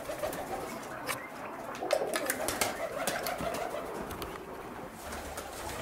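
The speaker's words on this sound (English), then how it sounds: "Down there, there is a white homer pigeon baby, growing very fast." White homer pigeons coo softly in a loft, a steady low murmur of overlapping calls with a few sharper rustles and wing flutters standing out, all fairly close and continuous.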